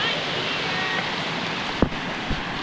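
A waterfall pours into a stream in a steady, broad rushing wash, close and continuous, with a couple of brief knocks near the end.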